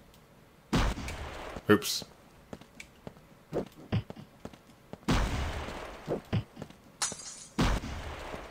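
A grenade thrown in the side-scrolling game Super Trench Attack, heard as a few sharp broadband bursts and pops scattered through the stretch, with someone talking between them.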